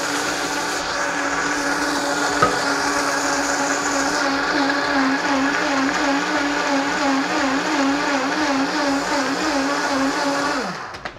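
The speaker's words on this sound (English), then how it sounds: "Vitamix makes a very good blender." A Vitamix blender runs continuously at high speed, a loud steady motor whine with churning that holds for about ten seconds before winding down at the end.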